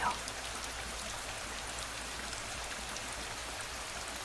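Steady rain falling at night, a dense, even hiss of drops on surfaces that holds constant throughout, with no voices.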